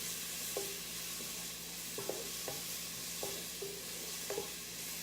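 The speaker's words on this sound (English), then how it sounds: "There's nothing like cooking some garlic and some onion" Garlic and onion cooking in a pot on the stove: a steady low sizzle under repeated spoon stirring scrapes and taps, close and moderately quiet, with no voices.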